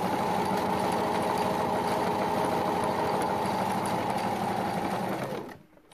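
A sewing machine runs a zigzag stitch in one steady, fast, motor-driven burst at close range, with dense rhythmic needle chatter that stops just before the end; no one talks.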